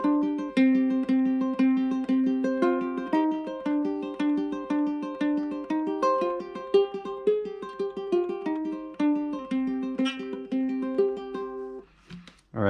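A song's main riff rings out on ukulele, a steady stream of plucked notes repeating the opening pattern at moderate volume for about twelve seconds, with a brief pause and a fresh attack at the end.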